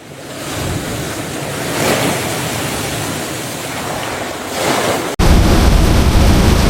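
Six-meter typhoon waves from Typhoon Uwan crash on the shore at Aurora in the Philippines, a loud continuous roar of surf swelling and surging, with wind buffeting the microphone and a sharp jump in loudness near the end.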